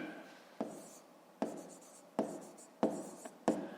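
A pen scratches on paper while working a fifth-grade maths exercise, five quick strokes spaced at an even rhythm, each a short rasp that fades quickly, close and quiet with no talk.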